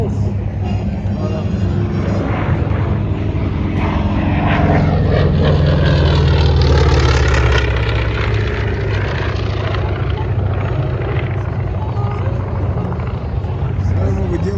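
Radial-engined Avenger and Dauntless warplanes at an Oregon air show make a loud, continuous propeller roar that swells as they pass close overhead, then holds as a broad, steady drone.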